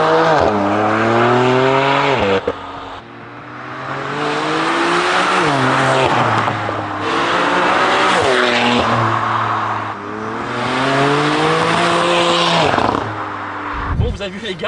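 A BMW M4 with an Armytrix full exhaust line roars through repeated rising revs, each climbing to a loud, raspy peak before dropping back to idle, with a brief sharp pop near the end.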